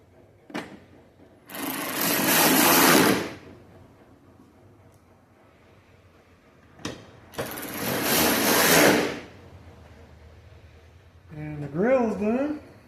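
A power driver runs two separate long, steady whirring bursts while screws go into the grille of a 2007 Subaru Outback. The bursts are close and loud, with quiet gaps between them, and a voice follows briefly at the end.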